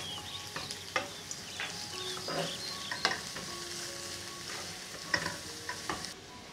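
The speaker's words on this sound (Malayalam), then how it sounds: "നമുക്കിതിലേക്ക് സവോള ചേർത്ത് കൊടുക്കാം. എല്ലാം നന്നായിട്ടൊന്ന് വഴറ്റിയെടുക്കാം." Onions sauté in a pan for fish molee, with a steady sizzle broken by repeated sharp scrapes and knocks of a spoon stirring, close and fairly loud, no voices.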